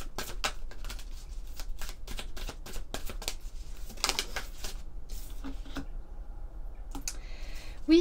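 Oracle cards are shuffled close by in a series of crisp, rapid riffling flicks and soft slaps, with irregular bursts and short pauses, and a faint tap near the end.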